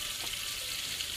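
A small splash of water is poured into a cooking pan holding green chilli and ginger paste, giving a soft, steady hiss of running and sizzling water with no talking.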